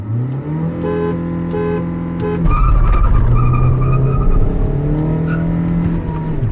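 Hyundai Verna and Volkswagen Vento launching side by side in a drag race, engines revving hard and climbing through a gear change, loud and close with a sustained roar and no talk.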